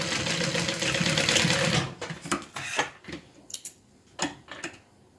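Sewing machine stitching down a folded piece of a reversible scarf, a steady loud whirring run for about two seconds, then slowing into uneven ticking bursts and clicks close by, no talking.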